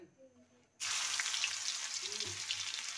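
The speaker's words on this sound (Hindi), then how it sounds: "मैंने तेल रख लिया है, और तेल में मैं ये प्याज डाल दूंगी।" Onion dropped into hot oil bursts into a loud, steady sizzle after a quiet start, continuing close and even to the end.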